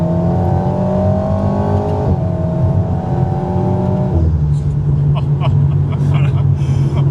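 An Alpine A110 sports car pulls hard from inside the cabin, engine note climbing through a gear, dropping at a shift, then climbing again, loud and close with road roar underneath.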